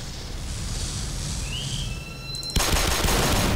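Rapid automatic gunfire in the video game Black Mesa, a continuous rattle over game ambience that suddenly becomes louder and denser near the end.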